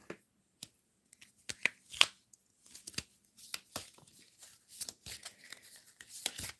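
A deck of tarot cards shuffled during a live reading, with irregular crisp riffles, snaps and flicks up close in a quiet room, no talking.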